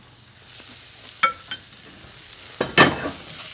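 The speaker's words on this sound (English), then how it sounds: "So we'll throw shallots in there." Shallots sauté in steak fat in a pan, giving a soft steady sizzle with a few sharp spatula scrapes and a louder stirring burst near the end, close up.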